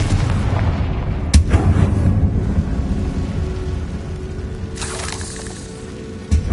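A magical Confringo blasting spell explodes in a video game with a sharp boom around the middle of the clip, followed by a rumbling blast tail and another crack near the end.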